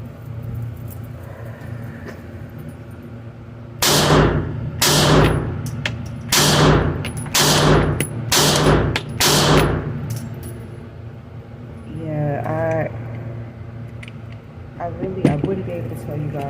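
A Glock 42 pistol fires at a shooting range, about seven sharp loud reports in a steady sequence roughly a second apart, with a person talking in between at a distance.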